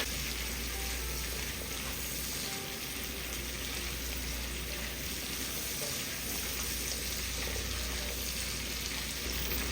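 Diced potatoes frying in a pan with an onion and garlic mixture, a steady dense sizzle that stays even and close throughout with no talk.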